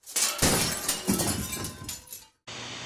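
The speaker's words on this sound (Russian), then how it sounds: "треснула бутылкой по столу, после чего она разбилась на мелкие осколки" A glass bottle smashes on a table and breaks into small shards, a loud close crash with scattering glass that tails off, followed by a short burst of noise.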